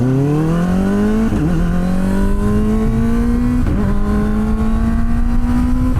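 A Kawasaki ZX-4RR motorcycle launches hard from a traffic light, its high-revving inline-four engine loud and close, with the pitch climbing steadily through two quick upshifts.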